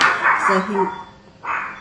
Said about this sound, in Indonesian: Maaf ya, anjing saya gonggong.